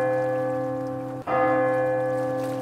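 A single small bell is struck once, its tone ringing out and fading under a steady sustained backdrop of held tones.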